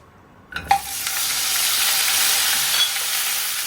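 After a brief clatter, eggs drop into hot oil tinted with turmeric and burst into a loud, steady sizzle that holds evenly to the end, with no talking.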